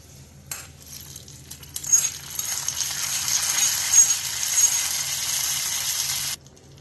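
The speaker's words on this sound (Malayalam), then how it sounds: "ഇത് ഇളക്കി മിക്സ് ചെയ്യാം." A spoon scrapes and clinks around a pot of samo rice payasam in a continuous stirring stretch, with a few light metallic taps; close and moderately loud.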